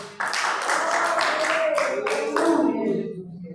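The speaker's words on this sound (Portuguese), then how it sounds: "As palmas para Deus!" Worshippers at a church service clap their hands in a quick, steady rhythm, each sharp clap distinct, while a voice carries on loudly over the clapping.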